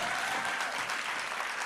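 An audience in a professional development session breaks into sustained applause, a dense wash of many hands clapping at a steady loudness with no gaps.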